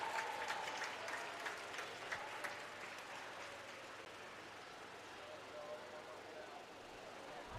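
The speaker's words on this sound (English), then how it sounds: "let's give one big round of applause to our 2025 CLS swimmers" Sustained crowd applause and cheering at a senior night high school swim meet, honoring graduating swimmers, steady and dense for the whole stretch with a few louder whoops early on.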